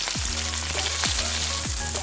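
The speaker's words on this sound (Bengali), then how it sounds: "এবার ঢ্যাঁড়সটাকে হালকা করে লবণ আর হলুদ দিয়ে ভেজে নিতে হবে।" Okra frying in hot oil with salt and turmeric in a kadai, a steady close sizzle broken by a few sharp clinks of a spatula against the pan.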